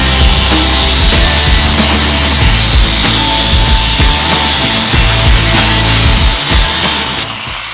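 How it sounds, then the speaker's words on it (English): Angle grinder grinding out a porous weld on metal, a steady loud harsh whir with rough grinding bursts running continuously without speech, easing off slightly at the very end. "we'll get in there a little tighter and a little more precise with another grinder here momentarily"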